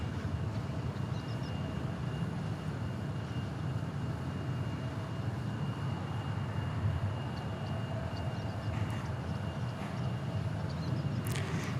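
Steady low roar of regional jet engines at Dallas/Fort Worth airport, a continuous distant rumble with a faint whine, constant in level throughout with no voices.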